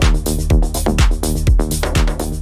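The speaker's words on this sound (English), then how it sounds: "Clean sounding drums with a little bit of tech influence that sound like this." Clean progressive house drum loop with a tech house lean: punchy four-on-the-floor kicks under crisp hats and claps, loud and steady with no voices.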